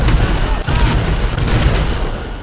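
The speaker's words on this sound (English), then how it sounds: "now all I have to do is just to rotate left and right and shoot people down" Heavy gunfire in GTA Online, loud and close, a dense stream of booming shots with little pause, rolling continuously throughout.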